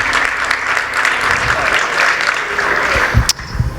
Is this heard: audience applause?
yes